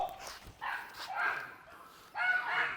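A Belgian Malinois barks in three close, loud bursts separated by short pauses, over a quiet background.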